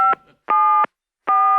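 Touch-tone telephone dialing: three short, loud dual-tone beeps, each about a third of a second, separated by brief silences, close and clear with no talk.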